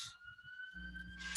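Ambulance siren going past outside: a faint, steady high tone held under quiet background noise, with a brief hiss of passing traffic at the end.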